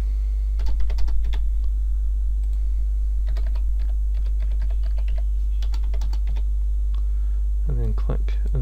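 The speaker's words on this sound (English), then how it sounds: "I'm just going to quickly put the password in" Password being typed on a computer keyboard during a WordPress install, a steady run of close, crisp key clicks with short pauses over a faint mains hum, and a brief voice near the end.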